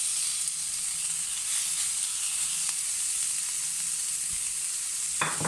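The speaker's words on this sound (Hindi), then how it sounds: "जी हम नाज़रीन इसमें ये प्याज डाल रहे हैं। प्याज इसमें हम सारा ऐड कर देंगे एक ही दफ़ा।" Onions tipped all at once onto a hot tawa for hotel-style beef keema, giving a steady, close sizzle and hiss throughout, with a brief clatter near the end.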